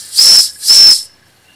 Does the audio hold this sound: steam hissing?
yes